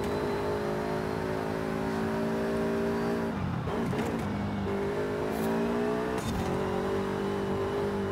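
A new road car with racecar-like handling, driven hard with its engine note climbing steadily, then dropping sharply at two gear changes, including a shift into fifth, before winding up again; loud, close and continuous.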